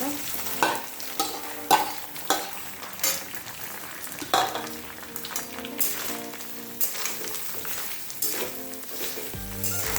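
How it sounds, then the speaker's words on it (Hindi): Soybean chunks stirred and frying in hot oil in a pan, a steady sizzle broken by repeated scraping stir strokes, close and fairly loud with no talking. "तेल गरम है आम सोयाबीन को पकईदे"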